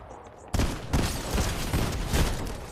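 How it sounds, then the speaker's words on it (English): Rapid bursts of gunfire in a PlayStation shooting game, fired out through a window, crack loudly in repeated volleys after a brief quiet opening. "I'm shooting outside the window"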